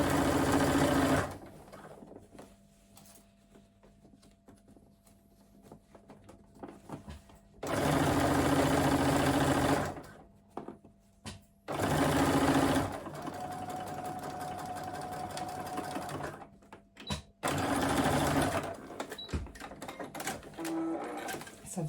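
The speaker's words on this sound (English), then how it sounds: "So I've sewn all the way along the top." A sewing machine stitches a bag lining seam in several bursts of fast mechanical whirring separated by quiet pauses, close and fairly loud with no talk.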